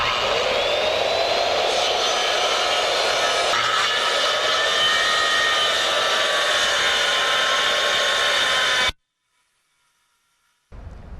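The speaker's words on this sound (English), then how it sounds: "now I'm just going to rip my board" A power saw rips a fascia board lengthwise along a marked line, a loud continuous whining cut close by that stops abruptly near the end, followed by brief silence and a short return of noise.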